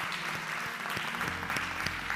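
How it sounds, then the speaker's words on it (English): A church congregation claps hands steadily, a dense patter of applause from many people that continues throughout, during a worship service. "Let's give God a hand clap praise offering if you will."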